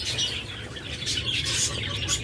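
A pair of lovebirds offered for sale gives quick, scratchy chirps in short bursts, fairly close, over a constant background hiss.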